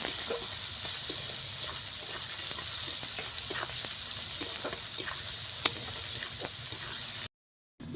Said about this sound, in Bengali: পেঁয়াজটা আমি দিয়ে দিলাম পেঁয়াজটা একটু ভেজে নেবো